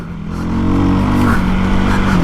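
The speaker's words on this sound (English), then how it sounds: "I'm running a quick shift racing full system exhaust" A Hero XPulse 230 motorcycle with a racing full-system exhaust revs close by, a loud raspy engine note that swells and holds with a slight rise in pitch.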